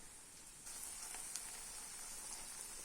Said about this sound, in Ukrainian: в мене досі смажаться оладки кабачкові